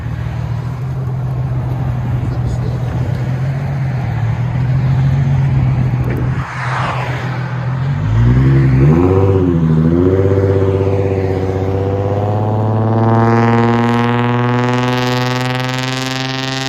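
A Nissan 350Z with a 3.5L V6 and straight-pipe true dual exhaust with an X-pipe idles with a low burble, then revs hard in rising and falling bursts and climbs into a loud, sustained high-pitched wail, close by.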